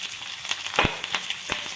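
Cumin, mustard seeds, sliced dry coconut and curry leaves sizzle and crackle in hot oil for a tempering, a close, steady frying hiss broken by sharp pops and spits.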